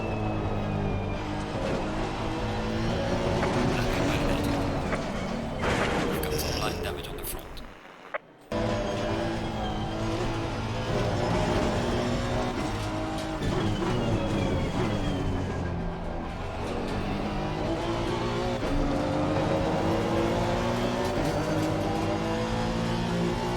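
Honda race car engine in a racing simulator lap, revving loudly and steadily with rising and falling gear pitches, a brief cut in the middle, and occasional faint talk over the constant roar.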